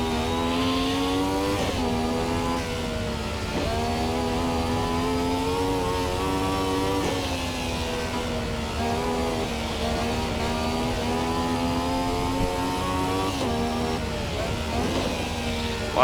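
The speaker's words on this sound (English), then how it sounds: "A little bit of drifting for you through Calenard." A Ferrari 312T Formula 1 car drifts through a corner, its engine screaming at high revs with a continuous, loud, slightly wavering howl and brief dips between gears.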